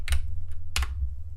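Two quick bursts of keystrokes on a computer keyboard, a cluster of clicks followed by another short pair, close and fairly loud over a low hum.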